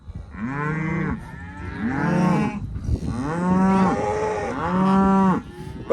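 Dark red shorthorn cross cows give four loud, drawn-out moos one after another, each lasting about a second, with short pauses between them. The calls are close by and clear, with no talking.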